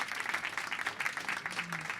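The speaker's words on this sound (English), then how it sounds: "Give them a round of applause," An audience at an interview event gives a round of applause, fairly faint and steady clapping spread through the room with a low voice briefly underneath.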